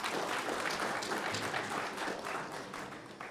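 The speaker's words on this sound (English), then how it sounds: "can we give ourselves another round of applause?" A round of applause from attendees at the close of a petroleum policy consultation meeting, a full, steady burst of clapping that gradually thins and fades slightly toward the end.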